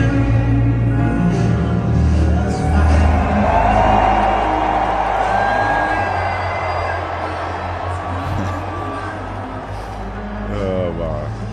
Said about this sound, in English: Show Trump, they're going to show the crowd erupt.